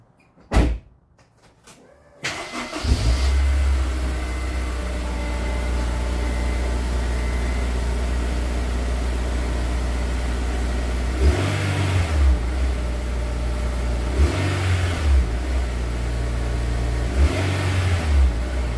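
A Honda S2000 on its stock exhaust starts after a few quiet seconds, then idles with a loud steady drone and is revved sharply three times near the end.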